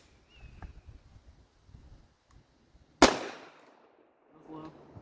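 One loud, sharp gunshot from a .500 Magnum or a 12-gauge slug at an outdoor shooting range cracks out midway and decays quickly, with faint voices and rustling before and after.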